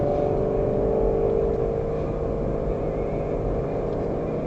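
A Lexus GS-F in manual Sport Plus mode with stability control off, its engine running loud and steady with a deep continuous drone and faint revving throughout, heard from inside the car.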